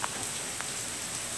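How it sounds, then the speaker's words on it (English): Heavy rain pouring down in Fort Walton, a dense continuous hiss of rainfall with a few distinct droplet hits, steady and unbroken for the whole stretch. "It is pouring down rain here in Fort Walton."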